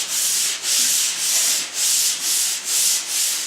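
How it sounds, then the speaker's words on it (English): Drywall joint compound being hand-sanded in steady rhythmic strokes, about seven back-and-forth passes of a broad, hissing scrape, close and loud with no talking. "we're going to finish sanding"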